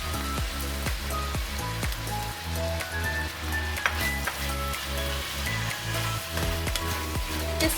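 Ground beef and basil leaves stir-fried in a hot pan, with a steady, loud sizzle and repeated scraping stir strokes throughout; no talking.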